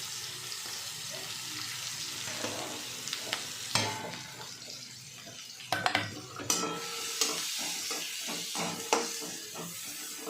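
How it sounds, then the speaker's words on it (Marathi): Chopped onion frying in oil with cumin seeds and ginger-garlic paste, a soft continuous sizzle broken by scraping stirs of a spoon against the pan. "कांदा छान परतून घ्यायचा"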